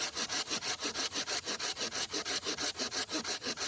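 Hand saw cutting through wood while a camp chair is being built, about twenty quick, even back-and-forth strokes in a steady rhythm, close and fairly loud with no talking.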